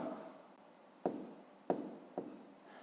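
Someone writes a number by hand during a fifth-grade maths exercise: three sharp, scratchy pen strokes land about half a second apart over a faint, steady room hiss.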